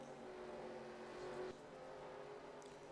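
Stock race cars at speed on the Mosport road course, a steady loud engine roar from the field with a slight shift midway, continuous without talk.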